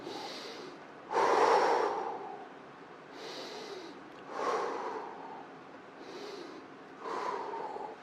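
Deep, audible breaths during a home floor exercise session: several slow inhale-exhale cycles with sharp nasal intakes and long sighing releases, close and fairly quiet, evenly paced about every two seconds.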